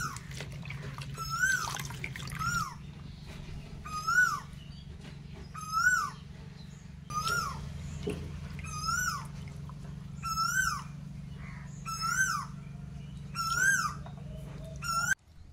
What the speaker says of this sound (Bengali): এখন কিন্তু বসন্তকাল, তো বসন্তকালে কিন্তু কোকিল ডাকে।